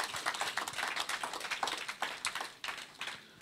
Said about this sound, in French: Est-ce qu'on peut s'applaudir soi-même?